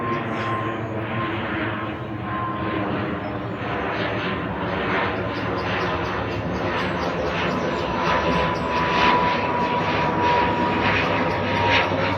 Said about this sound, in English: Just hear a plane coming in.